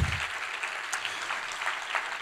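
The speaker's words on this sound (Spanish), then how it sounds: "Dale un aplauso al Señor." A short burst of applause from a church congregation, clapping steadily at moderate volume with no voices over it.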